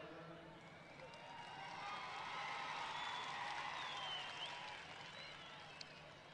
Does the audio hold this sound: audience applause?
yes